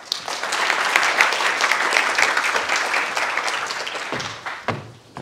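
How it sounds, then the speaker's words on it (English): An audience at a university lecture at Chongqing University welcomes an academic speaker with big, dense applause. The clapping swells quickly, holds for about four seconds, then thins into a few scattered final claps. "please let us give a big applause to welcome our honorable speaker"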